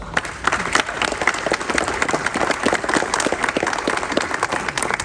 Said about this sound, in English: please give our families a round of applause